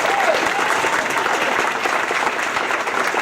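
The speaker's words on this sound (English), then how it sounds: "A round of applause, please, for JordanCon's previous Toastmasters" A convention audience at the JordanCon 2013 opening ceremonies applauds in a hall, producing thick, sustained clapping that holds at an even, loud level for the whole stretch.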